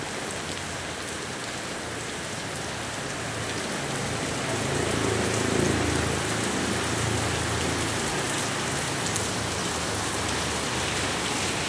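Heavy rain falls at night, a dense continuous hiss of drops striking surfaces that swells slightly partway through, with no voices.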